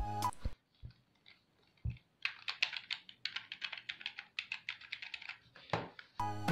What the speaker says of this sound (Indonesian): Secara desain seperti keyboard mekanikal, tapi ini bukan keyboard mekanikal namun membran biasa. Untuk suaranya cukup soft,